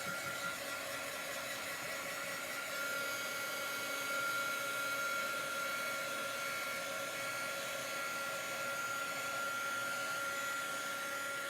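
A hair dryer blows steadily on a freshly washed wooden chalk-craft board, a continuous even whirring hiss that holds at a constant level throughout, with no talking.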